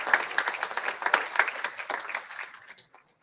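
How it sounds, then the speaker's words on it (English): Clapping from a banquet audience at a Mississippi Golf Hall of Fame evening, honoring golf champions; a dense round of applause that thins and fades out near the end. "How about another big round of applause for those champions?"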